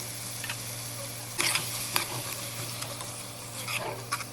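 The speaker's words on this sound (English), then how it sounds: "The vegetables are cooked good, so add in the tuna." Tuna tipped into a pan of cooked vegetables and stirred, with soft sizzling and a few brief clatters and scrapes over a steady low hum from the stove.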